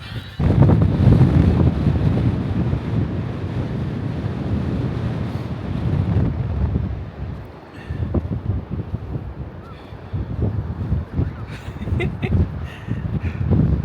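Cold wind gusts across a beach, buffeting the microphone in a steady, loud, blustery roar that dips briefly and then swells again.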